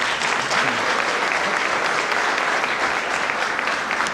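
One more round of applause for the Youth Venture teams at a United Way awards event, with sustained, even clapping from a large audience that stays loud throughout.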